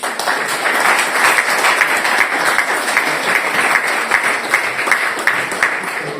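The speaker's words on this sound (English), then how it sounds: "Another big round of applause for Madam Hina Rabbani Khar." Sustained, loud audience applause fills a seminar hall at an embassy-organized event in Vienna, steady dense clapping from a large crowd continuing throughout without a break.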